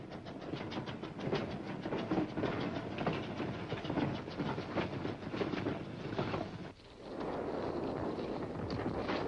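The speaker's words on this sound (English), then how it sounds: "Trains loaded with war wearies going back for salvage." A train rumbles past steadily with rhythmic clickety-clack of wheels on rails, loud and close, shifting tone briefly as the cars continue rolling by.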